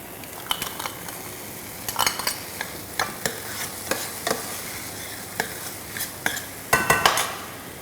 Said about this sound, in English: Give the mixture a nice stir, and now I'm going to add finely chopped beets which has been peeled and diced